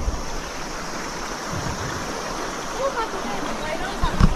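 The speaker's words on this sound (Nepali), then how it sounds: "बहाव रहेछ पानीको बहाव" Cold, clear water of the Reli Khola river rushes in a steady broadband wash close to the microphone, unbroken throughout, with a faint voice and a brief knock near the end.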